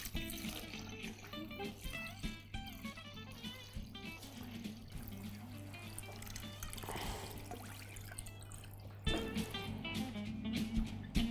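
Marinade poured over mackerel set in a container, a steady liquid trickle and pour running close up through the whole stretch, growing slightly louder near the end, with no talking.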